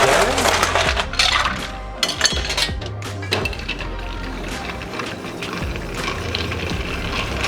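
A cocktail of Plantation pineapple rum, coconut rum and Bacardi Carta Blanca stirred in a glass, bright clinks and rattling of ice against the glass in quick irregular bursts, close and continuous under a faint room hum.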